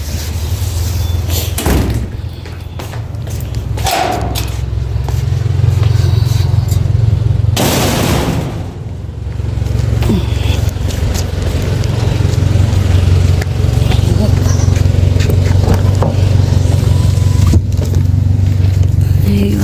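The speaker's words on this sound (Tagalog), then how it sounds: "yung sasakyan ng driver namin" A driver's car pulls up with its engine idling steadily, and a door slams sharply partway through, followed by further thuds and handling noises against the running motor.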